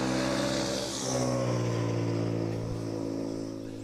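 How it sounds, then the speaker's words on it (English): A loud motorbike engine passes close behind commentators at an outdoor T10 cricket match in Santarem, Portugal, its steady droning tone swelling, then fading as it rides away. "a very loud motorbike goes right behind us"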